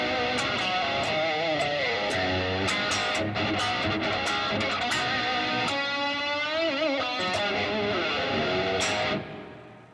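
Distorted rock electric guitar played through a Yamaha amplifier with its reverb on, a continuous loud stream of notes and bends with a lingering wash behind them, ending in an abrupt cutoff.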